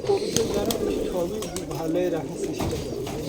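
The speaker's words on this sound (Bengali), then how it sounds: "অনেকগুলো কবুতর আছে এখানে" Giribaz pigeons coo repeatedly in soft, rolling calls in an abandoned courtyard, with people talking over them and a few sharp clicks in the background.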